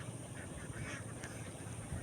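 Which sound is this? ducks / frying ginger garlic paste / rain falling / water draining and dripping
ducks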